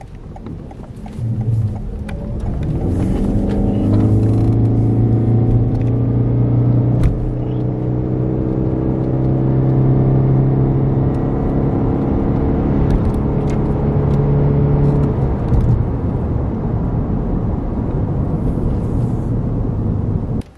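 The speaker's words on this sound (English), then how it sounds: "I need to keep accelerating until the vehicle reaches maximum RPM, so that would be around 5000" A car engine revs steadily upward toward about 5000 RPM during an acceleration run, a loud sustained drone with rising harmonic tones that holds for most of the twenty seconds before easing off.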